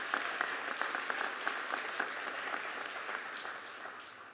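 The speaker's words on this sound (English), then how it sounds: "let's give him a round of applause." Audience applause at a police department awards ceremony, a moderately distant crowd clapping steadily with a few crisp individual claps poking through before it softens.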